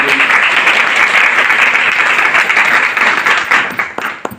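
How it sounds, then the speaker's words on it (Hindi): A seminar audience for an RCM business event bursts into loud, sustained applause, dense clapping that fills the room before thinning slightly toward the end. "एक बार उनके लिए जोरदार ताली।"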